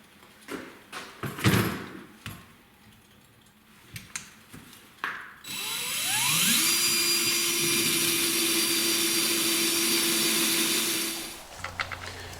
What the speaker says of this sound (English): So I'm gonna drill a hole, put it on a worm screw, mount it up on the lathe